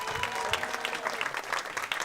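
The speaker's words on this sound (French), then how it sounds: "Et je vous demande de faire un tonnerre d'applaudissements pour Josserand." An audience at a comedy battle show in Toulouse claps loudly and continuously, a thick, close wash of clapping with a faint tonal hum underneath.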